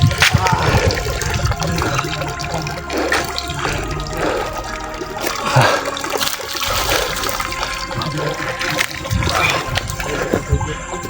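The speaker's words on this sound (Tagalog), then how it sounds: "Ito yung tubig tol." Water rushes and splashes steadily in a remote hillside area, a continuous loud flow with a few voices talking faintly over it.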